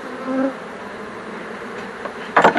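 Honey bees hum steadily around an open beehive during honey production work, a continuous close buzz with a few louder passes of individual bees near the end.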